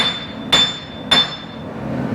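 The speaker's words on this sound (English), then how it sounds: "I'm just going to get a little pry bar and a hammer and just try and break it loose" Two sharp metallic hammer strikes ring out against a pry bar wedged at a rusted axle, spaced about half a second apart, close and clear over quiet workshop background.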